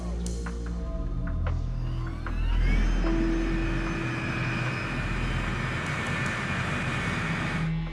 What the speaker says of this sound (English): Controllers need to keep a sharp eye on the crowded taxiway that the 747 freighter shares with other military aircraft.